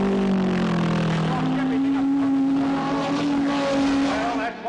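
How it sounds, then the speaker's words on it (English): Race car engine droning loud and close as the driver brakes after misjudging a corner, with a steady pitched whine over tire noise and a commentator talking over it. "It seems as if he misjudged the corner and put his brakes on."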